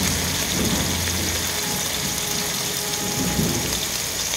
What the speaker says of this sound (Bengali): এবার আমি এর মধ্যে চিংড়িগুলো হালকা করে ভেজে নেব